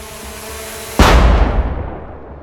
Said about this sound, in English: The explosion destroys Nona